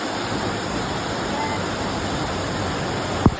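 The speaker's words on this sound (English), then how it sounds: "It's a waterfall then, mate." The Upper Düden Waterfall in Antalya produces a steady, full roar of falling water that continues unbroken throughout, with a faint short knock near the end.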